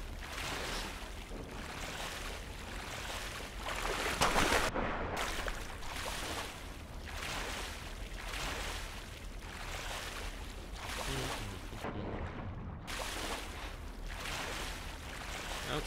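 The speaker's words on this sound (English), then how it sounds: "More swimming, just what we always bloody wanted." Swimming through water in the video game Black Mesa gives a continuous sloshing, splashing wash of water, fairly steady with rhythmic surges and two brief dropouts, with no talking.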